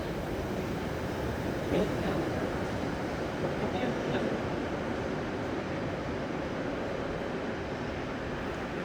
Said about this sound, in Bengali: এই ট্রেন চলে আসছে।